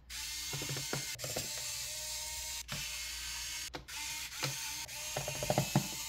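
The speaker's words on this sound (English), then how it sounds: "So what we're gonna do right now is just remove the screws." Screws being backed out of the bottom panel of an overheating laptop, giving bursts of quick ratcheting clicks from a screwdriver, close up and fairly quiet, repeating in short runs with brief pauses.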